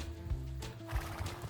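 A horse neighs, a close, loud whinny in short bursts with faint clip-clop hoofbeats mixed in.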